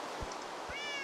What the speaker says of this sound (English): this is a house I made for my cats and dogs